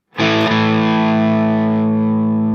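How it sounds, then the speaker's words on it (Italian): A heavily distorted electric guitar chord through the bridge humbucker pickup rings out loud and sustained, with a brief pick scrape near the start, then holds steady with no voices. "mi fai sentire il pick-up l'humbucker al ponte?"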